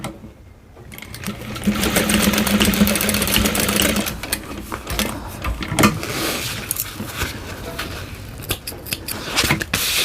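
A sewing machine stitches across the top of a bowler bag at a 3/8 seam, running steadily for most of the stretch after a brief quiet start, with small handling clicks throughout.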